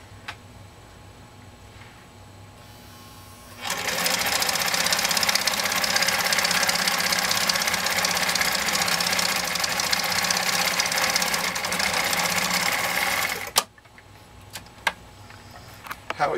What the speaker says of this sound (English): we'll go ahead and sew through this so you can see, even with 12 layers of Buchromb, unbelievably thick